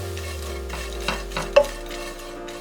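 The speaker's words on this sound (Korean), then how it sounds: "약불에 팬 올려서 멸치 2컵과 반컵 볶아서 잡내와 수분을 날려줬다" Dried anchovies are dry-stir-fried in a pan over low heat, with soft scraping stirs and a few louder clinks of the utensil against the pan over a faint steady background.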